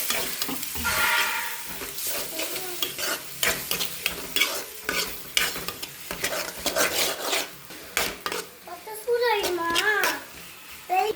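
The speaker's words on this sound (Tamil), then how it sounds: "இப்போ முட்டை உடச்சி ஊற்றிக்கலாம் ஆம்லேட் உடச்சி ஊற்றிக்கலாம்" Egg omelette fries in a pan with a bright, crackling sizzle while a utensil stirs and scrapes against the cookware, clinking now and then, as a child and an adult talk over the cooking.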